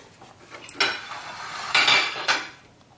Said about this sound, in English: Now put it in the pan.